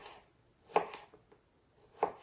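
A knife chops cucumber and other sangria ingredients on a board, giving a few sharp, widely spaced strikes, close but fairly quiet, with no voices.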